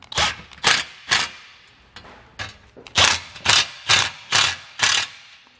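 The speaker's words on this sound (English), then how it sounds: "Now let's come back with our impact and run them down." Impact wrench running nuts down onto a Jeep Wrangler mount bracket, firing about eight short, loud, rattling bursts in an uneven rhythm with brief pauses between them, close up and with no talking.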